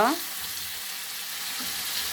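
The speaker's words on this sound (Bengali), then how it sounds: "এটা ওই যে অনেক সুন্দর করে পাখিটা কষিয়ে নিল" Steady frying sizzle of bird meat in a pan, close and even, with a brief clatter at the start.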